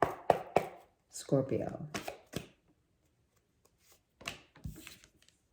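Tarot cards are shuffled in quick riffling bursts, close and crisp, between short stretches of a woman's speech and pauses.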